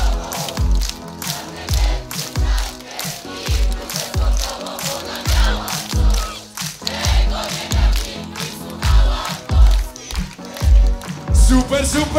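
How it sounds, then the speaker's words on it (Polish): A big outdoor city-festival concert crowd claps hands overhead in a steady beat over thumping pop music, the claps dense and continuous across the whole stretch. "Wszystkie ręce klaszczą w górze"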